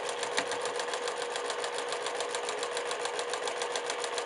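A sewing machine stitches a quilt block with a quarter-inch seam, a steady, fast mechanical whirring and ticking that runs continuously at close range.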